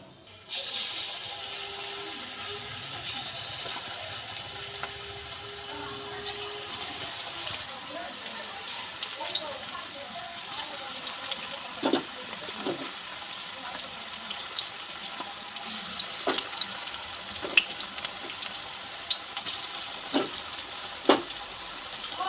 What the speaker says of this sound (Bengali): এবার পকোড়াগুলো ভেজে নেব।